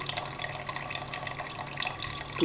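Whey runs and drips steadily from yogurt straining for quark, a close, continuous watery trickle with no talk.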